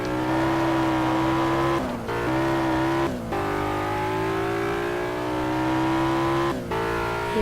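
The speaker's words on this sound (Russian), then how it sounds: "Видите, как хорошо она набирает скорость." A BMW M3 accelerates hard on a track, its engine note rising steadily with brief dips at gear shifts, loud and continuous with no talk.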